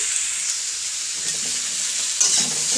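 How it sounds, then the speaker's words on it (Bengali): Cauliflower and potato pieces fry in hot oil, giving a steady close sizzle with soft scraping stirs and a brief louder crackle near the end. "এই যে আমি ফুলকপি আলু ভেজে নিচ্ছি"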